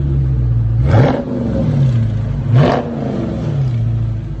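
A Dodge Charger V8 with a muffler delete idles with a deep rumble and is revved twice in quick succession, each blip swelling loudly and then settling back to idle.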